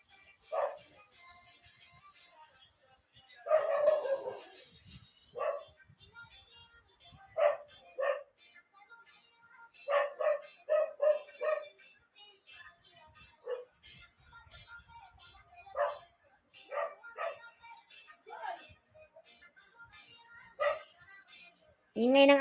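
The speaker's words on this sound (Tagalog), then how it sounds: "Ingay ng aso na yan eh." A dog barks in scattered short bursts across the scene, some loud and close, others fainter, with quiet stretches and a little background voice between the barks.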